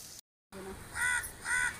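Two crows caw in quick succession, harsh and fairly close, after a brief cut in the sound.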